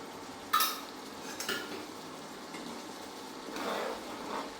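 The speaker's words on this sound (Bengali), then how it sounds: "এখন একটু নাড়াচাড়া দিয়ে তরকারিটা নামাই রাখবো" Egg curry with potato and eggplant being stirred in a pan, a few scraping and clinking strokes of a utensil against the pan over a soft sizzle, close and moderately quiet.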